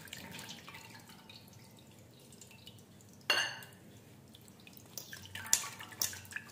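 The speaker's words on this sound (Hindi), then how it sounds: "अब उसी पानी में हम इमली को भी छान लेंगे।" Tamarind pulp being squeezed and strained through a sieve into jaggery water at home, giving soft intermittent drips and wet trickles, with a sharper splash partway through and a few small clinks of utensils near the end.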